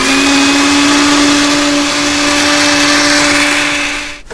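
A blender runs continuously at high speed while processing a food mixture for a pork-free palabok sauce, a loud, close, steady whir that cuts off at the end, with no talk.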